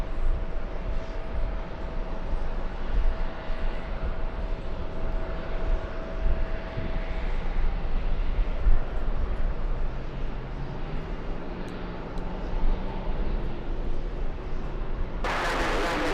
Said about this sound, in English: next one for takeoff is Lufthansa to Munich